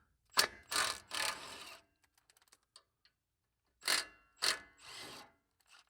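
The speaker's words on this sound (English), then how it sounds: "I'm just going to zap these off with the impact." A pneumatic impact wrench with a 15 mm socket rattling off sway bar bolts on a 2021-or-later Jeep Wrangler: three sharp hammering bursts, a pause with faint clinks, then two more bursts and a short final one, close and alone.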